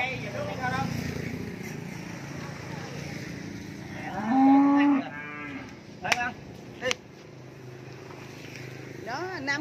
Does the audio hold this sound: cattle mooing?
yes